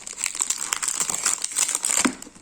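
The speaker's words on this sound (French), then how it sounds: "bon là il y a encore un sac plastique." Plastic bag crinkling during an unboxing, with dense, continuous rustling and crackling at close range for a couple of seconds, a slightly louder crackle near the end, and no voices.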